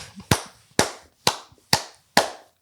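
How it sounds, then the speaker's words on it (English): Five sharp, evenly spaced claps, close and distinct with short decays, alone without talk. "Round of applause for my nigga Ellis"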